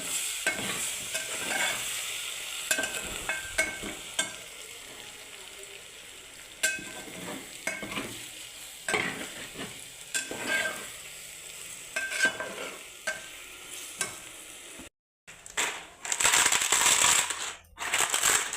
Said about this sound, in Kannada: ಎರಡು ತತ್ತಿ ಹೊಡೆದು ಹಾಕ್ಕೊಂಡೇನೆ